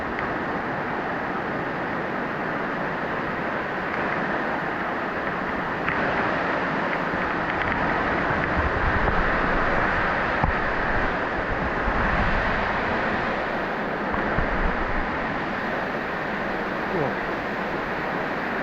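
Tub Chang waterfall pours in a steady broadband rush, a continuous hiss-like roar lasting the whole stretch at moderate level, heard close with some wind buffeting.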